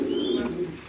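Pigeons at a loft coo in a low, steady murmur throughout, close and continuous, with a faint higher whistle-like tone briefly above.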